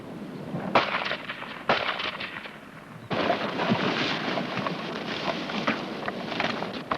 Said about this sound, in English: The section must be trained to continue the advance in spite of the noise of fire directed at someone else